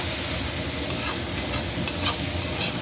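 Okra roasting over a high flame in a pan, a close steady sizzle with scattered crackles and a few light stirring scrapes.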